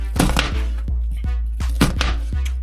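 A knife dicing an onion on a cutting board, sharp close thunks landing in quick pairs and single strikes with short pauses between, loud and clear with no talking.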